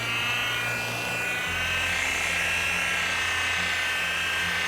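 A car polisher with a fresh foam pad buffs 13-year-old paint, giving a steady, close motor whine with a slight pitch drop early on and no talk over it.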